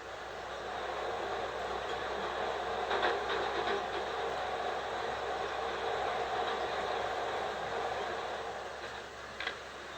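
Steady, even rumble of a subway train running along the track in the video game Spider-Man, continuous throughout with a couple of faint clicks near the end.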